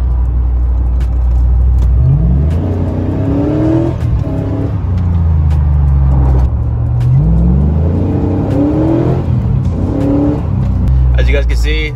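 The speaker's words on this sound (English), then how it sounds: "As you guys can see, transmission is finally slipping." A Chevrolet Silverado truck with a slipping 4L60E transmission revs loudly up close, its engine note climbing and dropping several times in repeated surges over a steady rumble.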